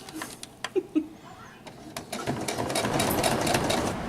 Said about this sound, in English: now we're sewing the other side